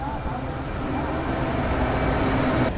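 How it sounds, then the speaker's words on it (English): Trains rumble steadily close by near a port, a broad continuous roar of rail cars rolling past that holds level throughout and cuts off abruptly at the very end. "There's trains all around us now."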